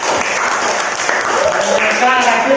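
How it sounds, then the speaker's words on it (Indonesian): Applause from pupils in an Indonesian classroom, a short burst of close, lively hand clapping heard together with someone talking. "Tepuk tangan buat Rakit."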